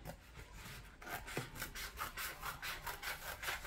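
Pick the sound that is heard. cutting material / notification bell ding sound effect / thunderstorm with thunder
cutting material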